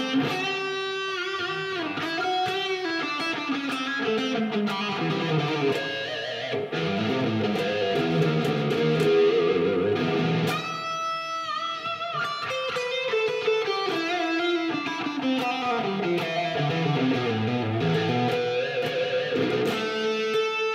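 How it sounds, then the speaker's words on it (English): An electric guitar run through a Tone X pedal plays sustained chords and melodic lines with a spacious reverb tail lingering after each phrase, steady and alone without speech. "So you have the reverb."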